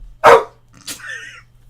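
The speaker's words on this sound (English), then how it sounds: "I'm going to look away from him again, and he'll bark." A pet dog gives one loud, close bark, then a brief high whiny yip a moment later, in an otherwise quiet indoor room.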